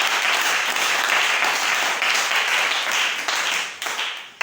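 An evangelical church congregation applauds, a dense, loud, sustained clapping from many hands that carries on steadily before thinning slightly at the very end.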